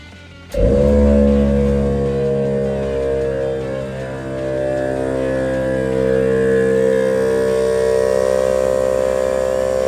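A loud, sustained air horn on an old dump truck blasts in abruptly and holds a steady, droning multi-tone blare for the rest of the clip, with a slight dip in volume partway through.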